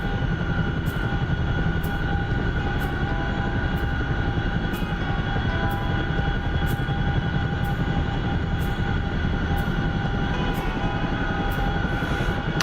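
Dense, loud rotor roar of a Chinook helicopter flying in a video game, steady throughout with regular high ticks recurring roughly once a second over the constant drone.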